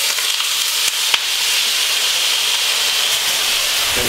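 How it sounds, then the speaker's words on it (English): Beef frying in a hot pan with oyster sauce and rice on the way, a loud dense sizzle and hiss running steadily throughout, with a couple of small knocks near the start and no talking. "I will separate the beef so that it's allowed to individually cook on each side"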